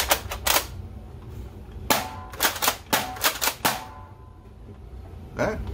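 A rapid-fire toy foam blaster shoots in sharp, close clicking bursts, a quick cluster of shots, a pause, then a final single shot.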